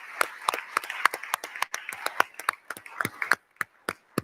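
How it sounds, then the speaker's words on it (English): Audience applause at a party AGM: a burst of clapping from a crowd of attendees, sharp irregular hand claps thinning out toward the end. "give her another well-deserved round of applause"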